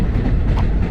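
A KRL commuter train pulling into Duren Kalibata station, giving a loud, steady close-up rumble of rail noise with a rolling low-end roar.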